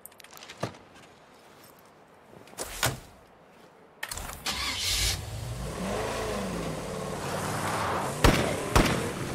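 In the zombie survival game State of Decay 2, a car hidden in a garage starts up after a few sharp door clunks, then its engine runs loud and steady, revving and rumbling close by, with more thumps near the end.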